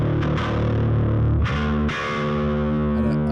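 Overdriven bass guitar played through an Origin Effects SVT-style amp: loud, gritty sustained notes with a couple of sharp new attacks and no talking.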